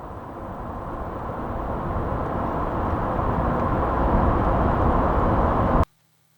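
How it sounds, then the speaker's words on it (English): A car passing on the right in an edited motorcycle scene: a steady, loud broadband engine and road rumble that builds slightly over several seconds, then cuts off abruptly. "We know the car is gonna be coming on the right hand side."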